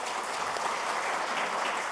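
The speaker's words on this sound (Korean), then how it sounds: "큰 박수로 맞아주세요." An audience at a policy forum event applauds with dense, steady clapping that fills the whole short stretch evenly.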